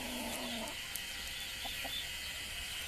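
Brahma chickens clucking faintly and sporadically, a few soft distant clucks over a steady hiss of background noise.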